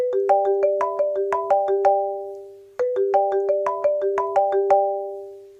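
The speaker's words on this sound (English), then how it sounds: "iPhone Marimba ringtone." The iPhone Marimba ringtone plays its bright, bell-like mallet phrase twice, each run of quick struck notes ringing out and decaying before the pattern repeats, clear and close with no other sound.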